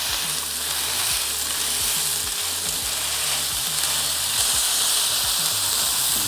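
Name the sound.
smash burger patty sizzling on a Blackstone griddle while pressed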